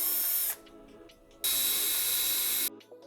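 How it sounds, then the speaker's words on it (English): A power drill bores holes into drywall to mount the rail of an IKEA PAX wardrobe, running in two loud, steady bursts with a brief pause between them, with no voices. "Let's drill some holes."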